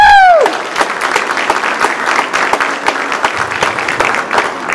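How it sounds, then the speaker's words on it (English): An audience gives a round of applause at an induction ceremony, following a brief falling tone at the start; the clapping is fairly close, with distinct individual claps within the steady patter. "I want to give a round of applause for Cindy at this point in time"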